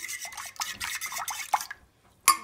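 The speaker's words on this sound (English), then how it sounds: "I'm just going to mix this yeast and the water up properly" Yeast being stirred into water for homemade pizza dough: soft wet swishing and clinking strokes in quick bursts, fairly close, then a short pause and one last sharp clink.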